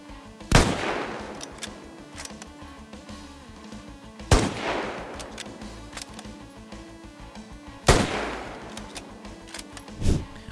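Rifle gunfire in the video game Squad, with three sharp, loud shots spaced a few seconds apart, each trailing off into a rolling echo, and a fainter fourth report at the end.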